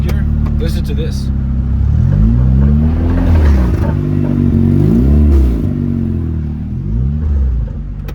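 A loud turbocharged Honda S2000 with anti-lag tuning revs and pulls hard in first gear, pitch rising and dropping through several surges, with rumbling and clatter close by.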